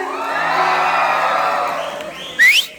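A large audience at a live show gives a sustained roaring shout of cheers and whoops that swells and then fades, ending with a single sharp high-pitched whistle or shriek.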